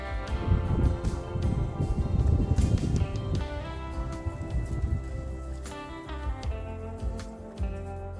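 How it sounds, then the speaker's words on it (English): Rain beginning to fall on and around a greenhouse built with polycarbonate panels, a steady dense patter close by with scattered heavier drops, continuous throughout and no talking. "And it's starting to rain"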